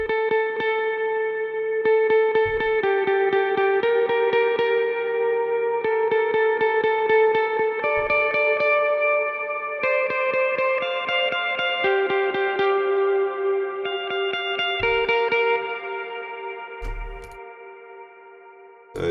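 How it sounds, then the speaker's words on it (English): Ambient electric guitar played through a Neural DSP Archetype Mateus Asato plugin on the Ambient Playtime preset, ringing clean notes and chords soaked in chorus, delay and reverb, steady and full throughout, played alone without talk. "so that guitar sounds like this"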